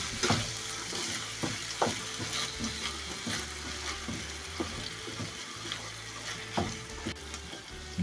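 Meat frying in a pan with a can of tomato pulp is stirred, giving soft sizzling under repeated scraping and clinking strokes of a utensil, close by with no talking.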